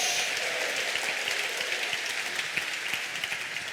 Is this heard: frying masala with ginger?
no